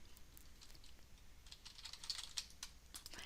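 Fingers type a value on a computer keyboard, a quiet, steady patter of light key clicks close by with no voices.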